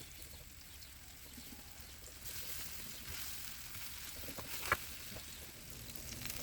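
Bananas fry in melted margarine in a non-stick pan, giving a steady, soft sizzle throughout with a few small clinks and pops.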